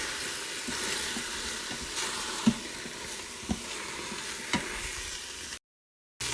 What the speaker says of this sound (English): Saute this for about a minute, and now I will add cauliflower to this and mix it.